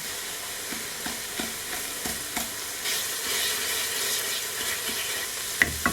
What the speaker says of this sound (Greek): Στη συνέχεια θα προσθέσω τον ντοματοπελτέ μαζί με μία κουταλιά τη σούπα ζάχαρη. Θα τα σοτάρω για λίγο μαζί.